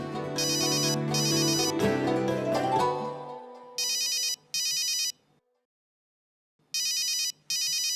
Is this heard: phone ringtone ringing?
yes